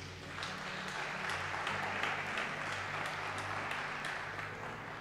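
A church congregation applauds steadily for several seconds, a dense, even wash of clapping from many hands in a reverberant hall, with a low hum underneath.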